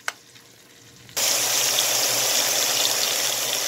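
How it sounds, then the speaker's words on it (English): After a faint tap at the start, water is poured into a hot cooking pan holding thin pieces of lamb shoulder, and a sudden loud, steady hissing sizzle fills the rest of the moment. "I'm just adding just a little more water and turn it down"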